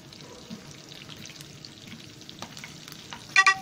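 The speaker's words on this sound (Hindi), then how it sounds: "अब इनमें कड़कड़ाहट शुरू हो गई है तो हम अपनी हरी मिर्चें भी डाल रहे हैं इसमें" Cumin, green chillies and tomatoes sizzle quietly in hot oil for a tomato chutney, a soft crackle with a few sharper pops near the end.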